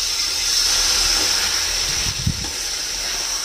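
A paste of tomato, garlic, dried and green chilli sizzles in a hot pan for spicy Nepali potato dum, giving a steady, loud hiss throughout with a brief low clatter partway through.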